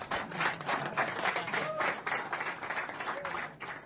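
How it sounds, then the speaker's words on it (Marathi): Audience at a social foundation's campaign meeting clapping in a steady, fairly soft round of applause that comes in pulsing bursts and carries on for a few seconds. "जोरदार टाळ्या त्यांच्यासाठी"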